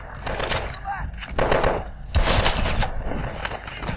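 Rapid gunfire bursts from the Call of Duty: Advanced Warfare video game, loud and close, with a heavier blast partway through and continuous game noise around the shots.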